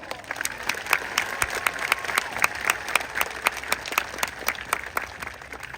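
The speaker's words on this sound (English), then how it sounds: "let's give a round of applause for all of us making it here today" A high school graduation crowd for the class of 2024 applauds in a dense, steady burst of clapping that holds for several seconds, with scattered sharper claps standing out.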